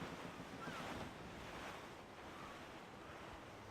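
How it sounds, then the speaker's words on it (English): Steady wind and rolling ocean surf at sea in Assassin's Creed IV Black Flag, a broad continuous rush with gentle swells, fairly faint and unbroken. "There's a strong wind now."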